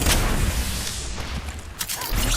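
A grenade goes off in Apex Legends amid a loud, dense firefight: booming blasts and gunfire run continuously through the whole stretch, with a sharper burst near the end.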